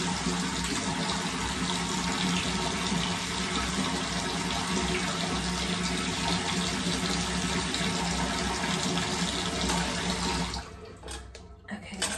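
Cold water runs from a tap in a hotel bathroom in Vegas, a steady broadband rush that continues for about ten seconds before cutting off into a few brief splashes and handling noises.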